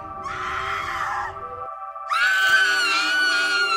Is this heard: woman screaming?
yes